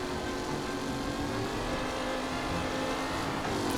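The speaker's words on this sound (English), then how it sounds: "To drive it is really crazy. It's so hard to turn the car." A car engine in Mafia: Definitive Edition drones steadily as the vehicle drives, a continuous, moderately loud motor hum with little change in pitch and no speech.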